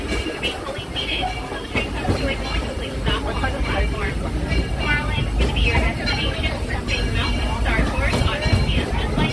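A Disneyland train pulls into Tomorrowland Station with a steady mechanical rumble and clatter, close by, while people talk over it throughout.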